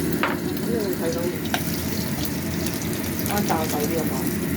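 XO sauce fries in a pan while oyster-sauce braised shiitake mushrooms are being made. A steady sizzle carries through the whole clip, and brief voices cut in over it now and then.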